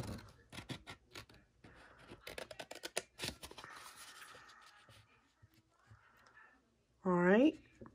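Scissors snip and scrape through paper being trimmed for a box, a run of quick irregular cuts and rustles close by, ending with a brief tonal squeak.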